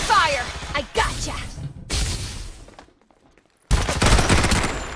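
Gunfire in a shooter video game comes as loud bursts of rapid shots broken by brief pauses and one near-silent gap, with a voice calling out between the bursts.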